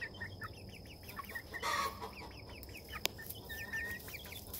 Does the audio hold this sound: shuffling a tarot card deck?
no